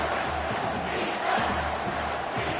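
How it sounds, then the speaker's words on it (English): Football stadium crowd at an NCAA game roaring steadily and loudly through a tense third-down moment, a dense wall of cheering and shouting with no pause. "this crowd is bringing down the house"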